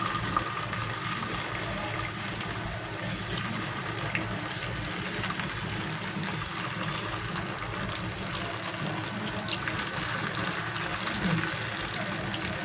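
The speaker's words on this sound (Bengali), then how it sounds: "তাহলে আমি এই কোফতাগুলিকেও লাল লাল করে ভেজে নিচ্ছি" Rohu fish koftas deep-frying in hot oil, a steady, dense sizzle that holds unbroken throughout, close and loud.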